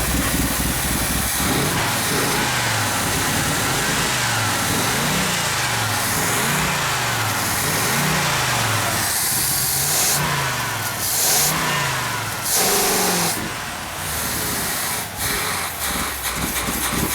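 A 1968 Chevrolet El Camino SS396 big-block V8 runs loud and close, repeatedly revving in rising and falling sweeps over a rough rumbling idle with hissing bursts.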